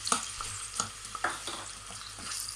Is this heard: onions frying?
yes